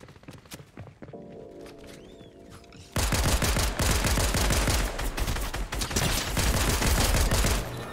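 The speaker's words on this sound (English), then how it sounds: "Who's shooting us?" Heavy automatic gunfire in the video game Fortnite erupts suddenly after a few seconds of quieter ambience, then continues as a loud, sustained barrage of rapid shots to the end.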